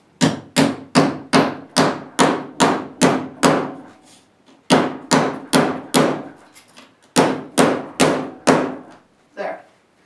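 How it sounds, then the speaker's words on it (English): A rawhide or rubber mallet hammers a folded copper seam in a run of about twenty close, firm thuds in quick rhythmic bursts separated by brief pauses. "if I want to tighten this seam, I can use a rawhide mallet or a rubber mallet"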